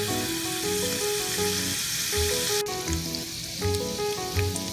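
Sichuan peppercorns and ginger shreds frying in hot oil, a dense steady sizzle up close, with occasional soft stirring knocks and a brief hiss burst midway, no talking.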